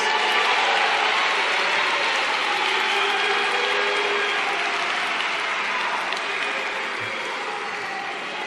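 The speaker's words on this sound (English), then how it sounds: "let us give them a big round of applause" A large audience at a national address applauds in a broad, sustained wash of many hands, continuous and even with no pauses, heard from within a big hall.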